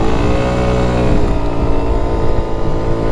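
A Suzuki Burgman 200 scooter pulls away from a standing start at full throttle, its engine drone steady and loud throughout with a rising, continuous tone and no talk over it.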